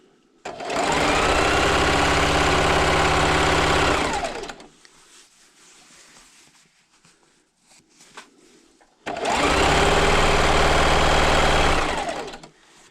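A sewing machine stitches scrappy quilt fabric strips in two long, steady bursts of rapid, even whirring, close and loud, separated by a quiet pause while the strip is realigned.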